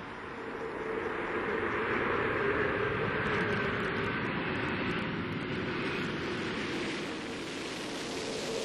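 Space Shuttle Endeavour rolling out on a runway after landing on the STS-123 mission, a loud, steady broadband roar of rushing air and rumble that holds constant, then eases slightly near the end.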